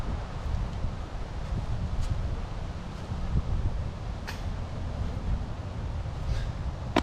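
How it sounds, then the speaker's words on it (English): Steady wind rushes through woodland on a disc golf course, a constant broadband whoosh with faint rustling and occasional light ticks, no voices. "A lot of winds coming through."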